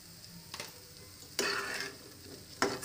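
Purple yam pieces fry in a pan with a soft steady sizzle, broken by three short scraping bursts of stirring.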